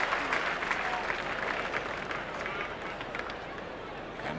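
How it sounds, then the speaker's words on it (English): A stadium crowd at a 1992 Australian football match between Adelaide and Carlton applauds warmly, a broad, sustained rumble of clapping and crowd noise with a general hubbub beneath it. "Micken comes off to warm applause"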